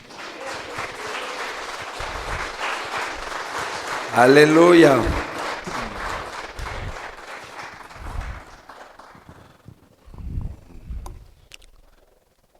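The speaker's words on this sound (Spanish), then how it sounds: "Démosle un aplauso al Señor, mis hermanos." Church congregation applauding during a Spanish-language service, an uneven clatter of clapping that swells, peaks with an exclamation midway, then thins into scattered claps with brief voices over it.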